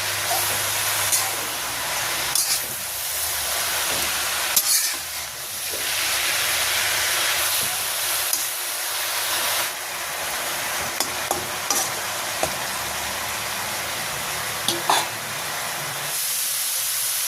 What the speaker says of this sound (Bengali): ঢাকনাটা খুলে নিলাম, এখন মিশিয়ে দিই আলুর সঙ্গে।